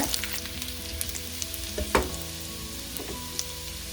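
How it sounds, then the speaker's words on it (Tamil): Garlic slices sizzling in melted butter in a pan, the base for a mushroom soup: a steady, close crackling fry with a few sharper clinks of stirring and no voices. "உருகினதுக்கு அப்புறம் நான் பூண்டு சேர்த்துக்கிறேன்"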